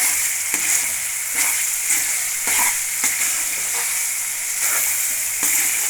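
Puliyogare gojju paste fries in oil, cooking down until the water is gone. A steady, close sizzle runs throughout, broken by regular scraping strokes of stirring.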